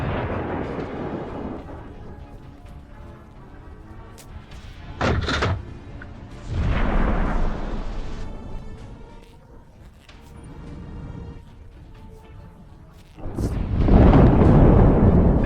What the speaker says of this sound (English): at the right moment, it strikes,